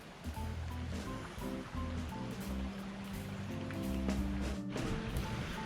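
Four Mile Creek flowing beneath a trail bridge at a state park campground: a steady wash of moving water, soft and continuous, with faint tonal sounds mixed in.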